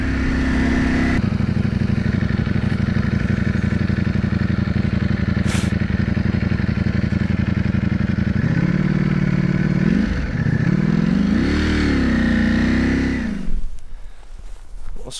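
A 2021 Ducati Panigale V4S on the road, its engine a loud, continuous close drone with wind rush, rising and dipping through gear changes before easing off near the end.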